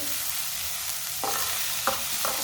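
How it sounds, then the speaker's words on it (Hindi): Finely chopped onion frying in a hot pan gives a loud, steady sizzle close up, broken by a few scraping stirs of a spatula, with no talk. "एक बारीक कटा हुआ प्याज डाल लेंगे। प्याज को ना 1 मिनट के लिए पका लेंगे।"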